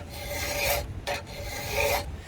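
Hand file rasping across a chainsaw chain tooth shaped for a racing chain, two close, steady metallic strokes separated by a brief gap.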